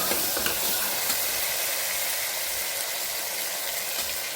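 Tomatoes stirred in a hot pan, frying with a steady broadband sizzle and hiss and soft scraping stir strokes, close and continuous throughout with no talking.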